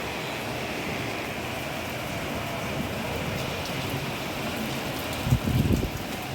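Heavy monsoon rain drums steadily against a car window as a constant broadband wash, with a short louder burst of splashing and knocking near the end.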